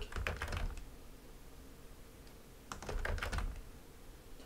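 Keyboard keys pressed in a Ctrl, Shift and Alt combination while using ZBrush 2021.7 knife brush, two quick bursts of clicky taps separated by a pause, fairly near with faint room noise.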